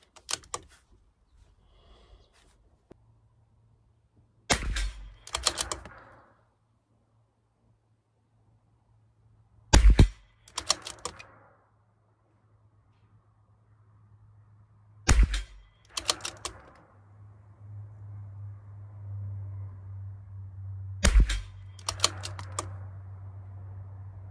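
A CZ457 LRP rimfire rifle fired with Eley Pistol Plus ammunition at 50 yards, four sharp cracks spaced roughly five seconds apart, each followed by a quick clattering burst, with quiet stretches between.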